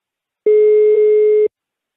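A single steady telephone tone, about one second long, sounds during a prank phone call as the line to someone's house rings. It is loud and alone, with no voices.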